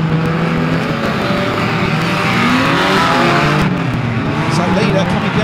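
Stock cars at a BriSCA-style oval meeting in Mildenhall race down the back straight, their engines roaring loud and continuous with tyre scrub, while a track announcer talks over the racing.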